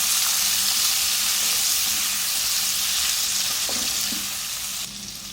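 Chopped medium tomatoes, with cashews, fry in a pan for a restaurant-style veg handi, giving a steady close sizzle with a few stirring scrapes and no talk.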